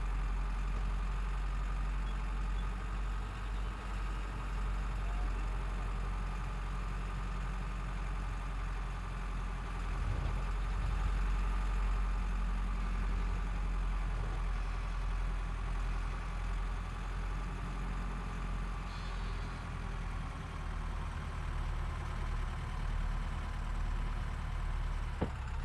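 A farm vehicle's engine idles steadily while warming up, a continuous low rumble holding an even note throughout with no revving or speech.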